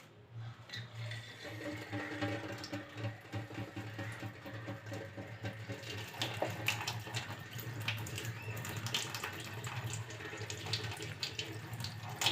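Water pours steadily from an electric bathroom tap, a continuous hissing, splashing stream close by at moderate loudness for the whole stretch, with small fluctuations in flow and no voices.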